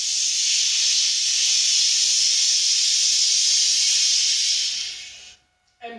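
Forceful breath out through the mouth during a breathing exercise, a long, steady, loud airy hiss lasting about five seconds before cutting off.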